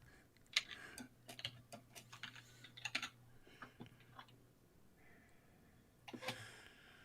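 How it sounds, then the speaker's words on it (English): Computer keyboard typing, sparse clicks and short runs of taps close to the microphone, fairly quiet, with a low hum underneath. "Clickety clack, Alan."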